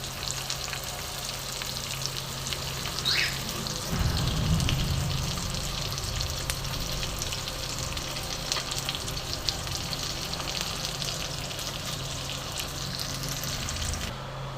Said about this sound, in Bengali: দেখো মাছগুলো ভাজা হচ্ছে, আমি মাঝারি ফ্লেম করে দিয়েছি গ্যাসের।